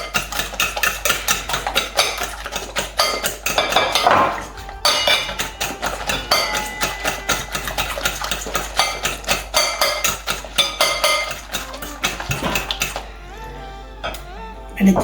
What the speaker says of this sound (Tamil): இப்போ இந்த முட்டையை மிக்ஸ் பண்ண போகிறேன்.